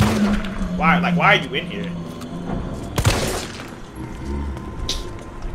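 Gunfire in the Resident Evil 3 Remake demo rings out, with sharp loud shots and a heavy blast amid game noise, while someone talks over it.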